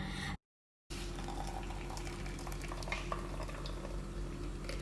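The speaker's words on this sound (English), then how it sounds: "Time to make the coffee. Hot water." Hot water pours for coffee with a soft, continuous liquid rush after a brief gap of silence, close and fairly quiet with faint clinks on top.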